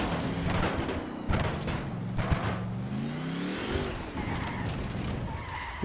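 A NASCAR race car in Forza Horizon 4 revs up on a drag strip, its engine note climbing and falling with tire squeal, steady and close, while someone talks over it.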